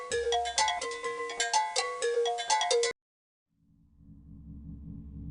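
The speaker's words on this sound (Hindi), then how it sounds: "शायद नदीम भाई का ही फोन होगा" A bright, melodic phone ringtone plays for about three seconds, stops abruptly, then a low muffled background hum fades in.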